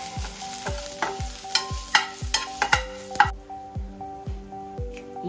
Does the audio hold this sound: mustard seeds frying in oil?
yes